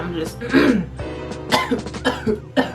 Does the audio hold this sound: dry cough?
yes